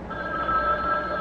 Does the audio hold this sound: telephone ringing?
yes